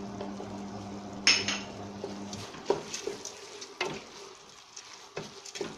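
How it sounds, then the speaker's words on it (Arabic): Chicken thighs being mixed with salt, turmeric, ginger and spices in a metal dish produce clinks and scraping knocks. A sharp clank comes early, followed by irregular scrapes and taps at close range. "نخلط كل شيء مع بعضه."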